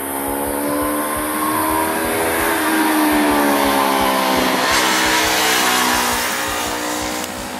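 Yamaha MT-03 motorcycle being ridden, its engine droning loud and close with a rising and falling pitch as the throttle swells and eases, with no voices.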